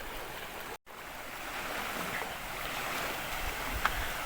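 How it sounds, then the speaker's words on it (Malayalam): A rain-swollen stream flows full with a steady, broad rushing wash that stays close and even throughout, with no voices. "തോട് നിറഞ്ഞൊഴുകയാണ് കേട്ടോ"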